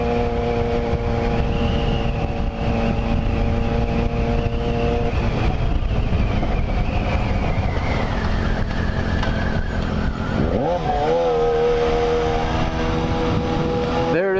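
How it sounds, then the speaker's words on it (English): A Yamaha FZ6R motorcycle with an open, lightly baffled muffler drones steadily while riding, its engine note rising and falling through a gear change, loud and close with constant wind rush. "It's a pretty open muffler. There's not a lot of sound deadening going on."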